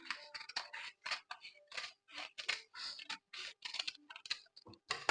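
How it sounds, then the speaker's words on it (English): Scissors snipping through a paper bodice pattern around the neck area, a close, rapid series of crisp cuts and rustles with brief pauses between strokes. "And also cut the neck area."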